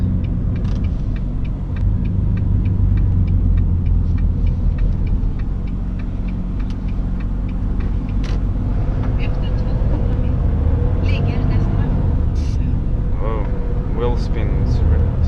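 An 18-wheel truck pulling a trailer drives along a slippery surface with a steady low engine rumble and road noise, wheels spinning, while people talk over it throughout.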